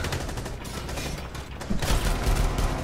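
Gunfire in the tactical shooter Rainbow Six Siege sounds as dense, continuous shooting with a booming burst near the end, loud and close, with no talking.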